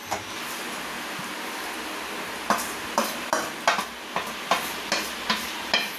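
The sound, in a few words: sautéing coriander leaves in a pan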